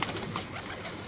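A pigeon cooing on a rooftop in Multan, soft throaty coos heard at close to moderate distance over faint background noise, lasting only about a second.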